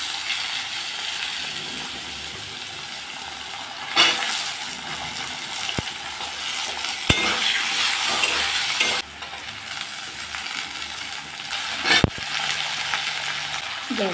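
Potatoes stir-fried in a pan, with mixed vegetables such as pumpkin, carrot and kakrol added, sizzle in a steady, loud frying hiss, while a spatula scrapes and stirs in several sharp knocks throughout.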